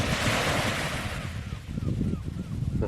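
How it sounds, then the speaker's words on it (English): Gentle waves wash over a flat sea at Portmahomack Beach on the Dornoch Firth, a soft broad surf hiss that fades, then low rumbling wind buffets the microphone. "just when it's really flat and you get that really quiet waves"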